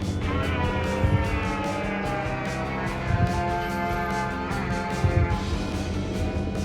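A Minecraft goat horn sounds in the video game, a long, loud, sustained droning call with layered tones like a raid horn, holding steady with a few swells throughout.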